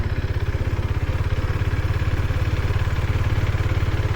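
A 2024 KTM RC390 motorcycle engine being ridden, a close, steady, throbbing drone held at an even pitch with no speech over it.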